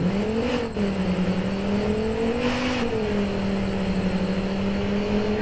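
Steady engine drone of an Audi Q7 taxi driven in the game Taxi Sim 2022, a continuous loud hum that rises and falls gently in pitch as the car cruises, with no talk over it.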